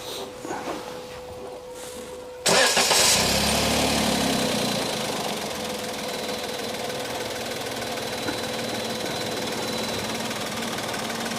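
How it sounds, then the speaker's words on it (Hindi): A Maruti Wagon R running on CNG starts up abruptly after a quiet moment, then settles into a steady, even idle with a low mechanical hum and light ticking, close by and with no talking. "जरा स्टार्ट करके दिखाइए कि कोई आवाज वगैरह तो नहीं है।"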